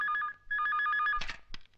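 An office telephone bell ringing in two clear bursts of rapid trilling, near and loud, followed by brief clattering as the receiver is picked up.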